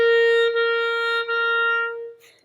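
A reed instrument holds a steady sustained tone, with tenuto notes separated by a light, fast tongue that makes barely perceptible dips between them, played close and clear with nothing else around it.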